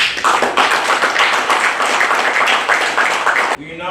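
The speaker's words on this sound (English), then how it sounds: "Let us give Minister Kono another quick round of applause." Loud, dense applause from an audience at an ambulance handover ceremony, sustained clapping for about three and a half seconds before it cuts off abruptly into quieter room sound.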